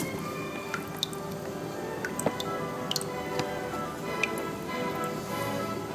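Water drains out of a Samsung Galaxy S3 smartphone after a long underwater test: scattered soft drips and wet squishy ticks, fairly close, over a steady background noise.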